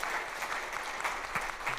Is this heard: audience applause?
yes